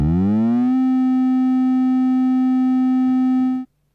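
A Ladik VCO4 synthesizer oscillator with FM modulation sweeps upward briefly, then holds one steady, loud, harmonically rich tone for about three seconds before cutting off abruptly, with no talk.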